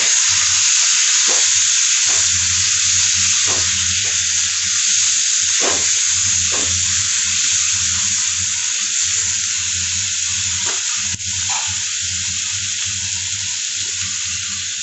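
Capsicum hits a hot frying pan while cooking a home-style soybean dish, setting off a loud, steady hiss of sizzling oil that runs throughout, with occasional soft spatters and clicks.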